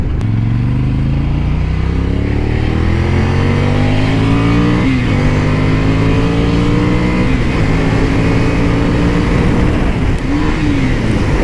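A Ducati Scrambler motorcycle accelerating hard on Los Angeles streets, its loud engine note climbing repeatedly as it shifts up through the gears, with a dip at each shift, close and continuous with wind noise.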